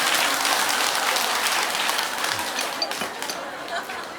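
An audience at a Buddhist dharma talk breaks into steady applause after the monk takes a sip of water, with dense clapping that thins out gradually near the end while faint chatter runs underneath.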